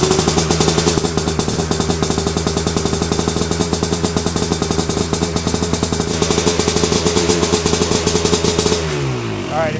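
A 1988 Tecate 4 engine fires on the first kick and runs steadily, a loud, fast, even two-stroke putter with rattly clatter that holds for about nine seconds before dropping off and winding down near the end.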